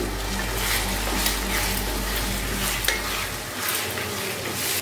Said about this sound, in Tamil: அப்பப்போ ஓப்பன் பண்ணி கிண்டி விட்டுக்கோங்க